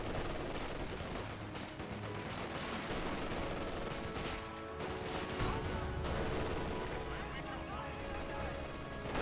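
Infantry gunfire in Company of Heroes 2, a Russian squad trading fire: sustained, dense rifle and machine-gun volleys with booming impacts, steady and loud throughout, with a voice talking over the combat.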